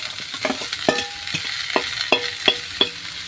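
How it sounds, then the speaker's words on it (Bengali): Chopped potato and bottle gourd stirred into frying mung lentils for a Bengali dal, with a steady sizzle under repeated scraping spoon strokes, about eight sharp close stirs in quick succession and no talk. "এবারে কুচি করা আলু এবং লাউটা আমি দিয়ে দেবো।"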